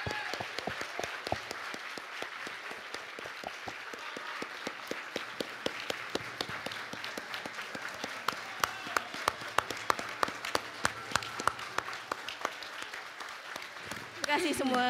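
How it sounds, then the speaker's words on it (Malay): Audience at a corporate staff gathering rises for a standing ovation, sustained applause filling the room with dense, steady clapping that swells with sharper individual claps before tapering near the end. "bangun memberi standing ovation kepada kereta eksekutif kita dengan satu tepukan yang paling gemuruh"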